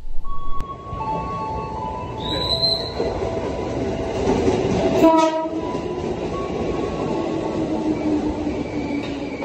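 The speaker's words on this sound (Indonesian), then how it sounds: "gak perlu nunggu lama, keretaku datang teman-teman" A train rolls into a station with rumbling wheels, squealing brakes and a horn blast partway through, loud and close, continuing steadily to the end.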